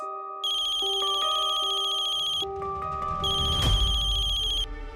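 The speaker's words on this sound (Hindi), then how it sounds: "चाची प्लीज फोन उठाओ।" A phone rings with a bright electronic ringtone, a repeating melodic pattern played twice, close and clear, with some low rumble underneath.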